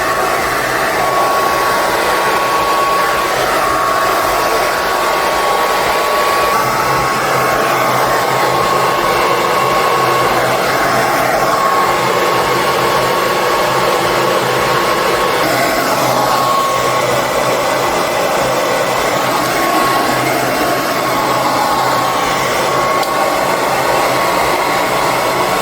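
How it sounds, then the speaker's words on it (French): A hair dryer fitted with a diffuser blows steadily and loudly while drying hair, a continuous close whooshing roar with a faint whine and no break for the whole stretch. "j'ai fini de sécher mes cheveux avec le diffuseur"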